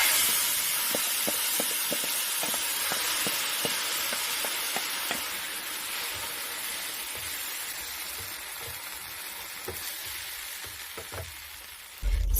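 Tomato puree hitting a hot pan for pasta red sauce sizzles and fries steadily, with soft stirring clicks and scrapes scattered through, close and continuous.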